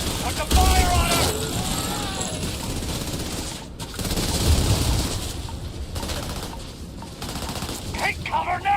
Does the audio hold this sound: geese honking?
no